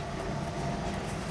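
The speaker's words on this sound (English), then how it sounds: "We have trains on the tracks, which is good." A train rumbles along the tracks during a heavy snowstorm, a steady low rolling noise that runs unbroken through the whole short stretch, moderately loud and without speech.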